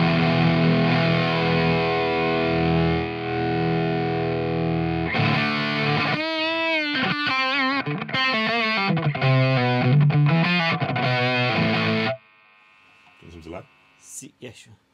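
A guitar played through a Valco KGB Fuzz pedal set to a gated distortion, giving loud buzzy sustained tones that shift into choppy, stuttering chords before cutting off abruptly, followed by a few faint quiet notes.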